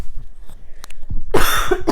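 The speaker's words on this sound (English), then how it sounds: "Hold on for a second, I need to cough." Several loud, harsh coughs burst out close to the mic in quick succession during the second half, after a quieter stretch of soft handling noises.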